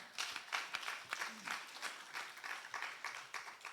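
A church congregation at a Friday evening service claps in quick, fairly even bursts, faint and somewhat distant.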